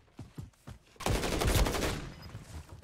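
Gunfire in the video game Call of Duty: Modern Warfare 3 during a competitive match, a few soft shots followed by a loud burst of rapid automatic fire that fades over about a second.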